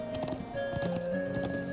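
Horse hooves clip-clopping in the Trails of Cold Steel video game, a quick rhythmic trot of hoofbeats over steady tonal game music, fairly faint.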